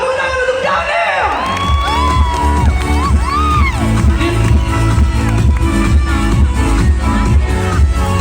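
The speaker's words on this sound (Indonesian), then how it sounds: "Tepuk tangan untuk Daniel" A circus audience cheers and whoops loudly for a performer, a dense continuous crowd roar with shouts and yells rising out of it over the whole stretch.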